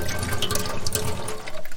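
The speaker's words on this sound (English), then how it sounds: "we have put a little bit of water in there" A little water pours into a hot pan of rainbow chard and rosemary, a short, close, gurgling splash over a sizzling background.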